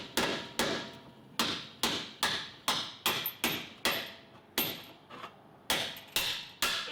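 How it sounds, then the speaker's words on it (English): Around a dozen sharp metal hammer blows land in a steady rhythm on the lower control arm bolt of a 2002-06 Toyota Camry, each strike close, loud and ringing briefly, with one short pause partway through. "then you hammer it"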